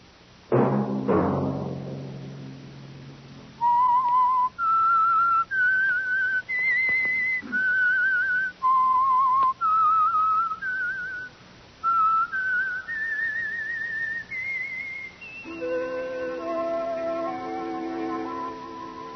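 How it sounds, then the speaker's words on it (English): A lone person whistles the theme tune of The Whistler, a 1952 radio mystery program, as a clear, wavering melody of sustained notes that rises step by step, following a brief low thump at the start. "Let that whistle be your signal for the Signal Oil program, The Whistler"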